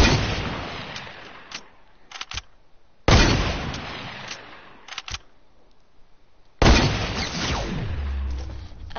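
Hunting rifle gunfire in a video game: three loud, sharp shots spaced a few seconds apart, each followed by a quick, fading tail and faint game ambience between them.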